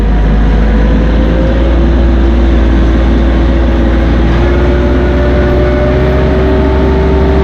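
A loud, steady Massey Ferguson 1M.25 hydrostatic compact tractor engine drones close by, its pitch rising slowly as the auto throttle climbs while reversing, with a deep rumble throughout.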